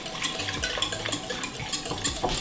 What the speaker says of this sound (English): we keep stirring until it blends up nice and smooth